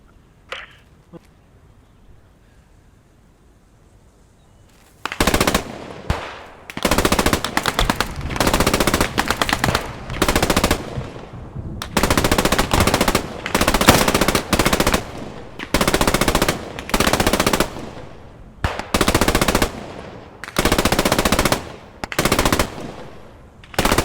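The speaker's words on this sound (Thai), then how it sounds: "เขายิงแบบ ไม่กลัวหมวกกระสุนเลยนะ" Heavy bursts of machine-gun fire in the WWII shooter Post Scriptum, loud and close, starting after five seconds of near quiet and then repeating in rapid sustained volleys with brief gaps between them.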